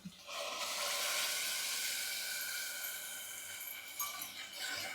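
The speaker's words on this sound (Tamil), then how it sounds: "இப்போ அரைச்சி வச்சுருக்கிற தக்காளியை இதில் ஊற்றிடலாம்" Ground tomato puree pours into onions and chilies sizzling in a pan, giving a sustained loud hiss and bubbling sizzle that eases off slightly toward the end, with no talking.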